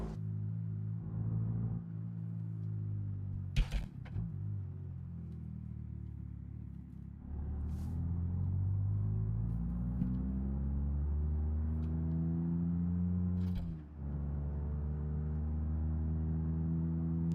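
A car engine rebuilt with an upgraded exhaust, intake and carburetor idles and revs low, a steady deep rumble rising and falling in pitch, with a few sharp knocks and clicks breaking through.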